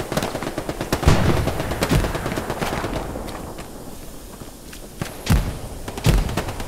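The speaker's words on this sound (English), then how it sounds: "There's like a machine gunner right here somewhere." Machine-gun fire rattles through a Hell Let Loose battle at Kursk, with sharp bursts and single cracks scattered unevenly over a continuous din of gunfire and distant thumps, some shots close and loud, others softer.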